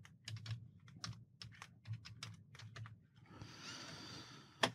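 Quick, irregular clicks of a computer keyboard being typed on up close, then a brief hiss of background noise and a final sharp click.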